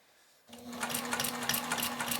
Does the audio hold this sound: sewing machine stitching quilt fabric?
yes